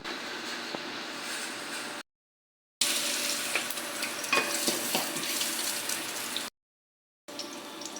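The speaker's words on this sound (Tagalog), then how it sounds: "So, magigisa na tayo guys." Food sizzles and fries in a hot pan while chicken adobo is sautéed, a steady crackling hiss with occasional stirring scrapes, interrupted twice by brief silent gaps.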